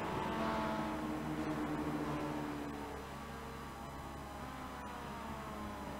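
Mazda MX-5 race car engine at Watkins Glen in a racing video game, a steady droning note that eases slightly partway through, heard alone without talk.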